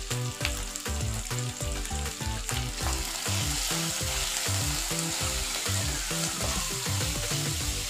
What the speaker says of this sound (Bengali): মশলাগুলো ভালোভাবে ফ্রাই করে নেব মশলাটাকে